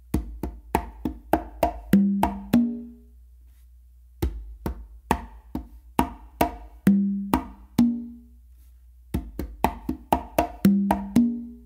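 Congas play a guaguanco-feel tumbao alone, with sharp slaps and open tones in quick repeating phrases broken by short pauses, close and clear.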